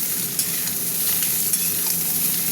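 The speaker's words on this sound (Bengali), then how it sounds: "সবজিগুলো একটু ভাজা ভাজা হতে থাক" Mixed vegetables are added to fried onions for a gandal leaf curry and sizzle steadily in a hot pan, up close, with occasional scrapes and taps of the stirring spoon and no one speaking.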